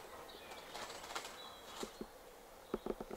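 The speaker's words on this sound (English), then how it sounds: "There's birds in that bush." Small birds flutter and flap about inside an outdoor bush, giving soft rustling wing beats with a few sharper bursts near the end over steady outdoor background noise.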